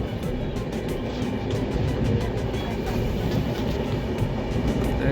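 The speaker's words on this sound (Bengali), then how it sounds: "গতিবেগ নিয়েছে ট্রেন" A train bound for Puri picks up speed, its wagons rumbling loudly and steadily up close with a rapid clickety-clack from the rails and no talk.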